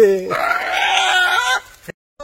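Desi chicken clucking nearby in a village forest setting, one short loud squawking burst that breaks off, with another brief call at the end; voices of people talking around it.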